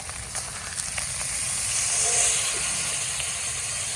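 A wagyu ribeye steak sears on its edge in a hot pan with a steady, close hiss that swells slightly midway, with no voices.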